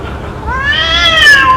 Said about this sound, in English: I have an endless loop here of a cat in heat.